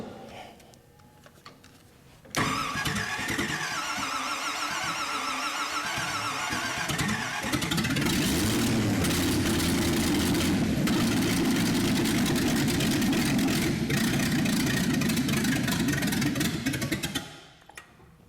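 A 1972 GMC 3500 wrecker truck engine cranks and catches after a quiet start, then settles into a loud, steady rumbling idle that rises slightly before cutting off near the end.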